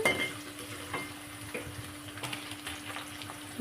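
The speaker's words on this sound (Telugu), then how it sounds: "నేను కళాయి పెట్టి జీలకర్ర ఉల్లిపాయ పచ్చిమిర్చి వెల్లుల్లి వేసి వేయిస్తాను" Cumin, onion, green chili and garlic frying in a kadai, a soft, steady sizzle with light stirring clicks and scrapes, fairly quiet with a faint tonal hum underneath and no speech.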